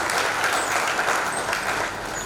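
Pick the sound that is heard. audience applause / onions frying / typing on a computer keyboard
audience applause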